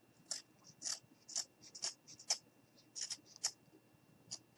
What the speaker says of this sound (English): Going to grab my scissors.